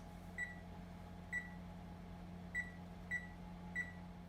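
A microwave oven timer is set to eight minutes and the oven runs, giving five short, bright, faint beeps at uneven intervals over a low steady hum.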